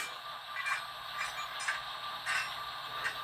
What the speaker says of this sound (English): You do have the coupler sounds.